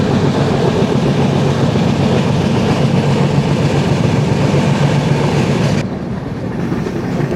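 Kolkata to Guwahati Garib Rath Express train running, a loud steady rumble of wheels and carriages close by, changing to a slightly lighter roar near the end with no talk.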